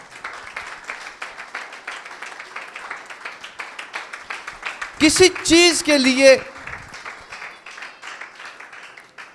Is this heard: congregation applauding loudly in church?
yes